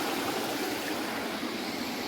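A clear freshwater stream flows through forest near Chikmagalur with a steady, broadband rushing and gurgling that holds constant and fairly loud throughout, with no voices.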